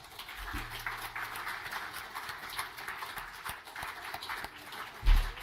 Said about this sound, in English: Please, another round of applause for all of our panelists.